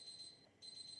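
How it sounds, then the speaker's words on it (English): Kitchen timer going off in a home kitchen, a continuous high electronic beeping tone that briefly drops out and then resumes, steady and fairly faint with no talk over it. "my timer's going off to fry my tofu"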